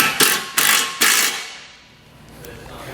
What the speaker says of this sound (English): 1/2 inch socket and wrench. We're going to tighten up the hardware at the bottom.